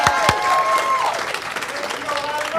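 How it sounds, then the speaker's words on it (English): An audience applauds an honoree at an employee recognition award ceremony, a burst of clapping close by that carries on for a few seconds with voices talking over it. "Let's give Angel a big round of applause."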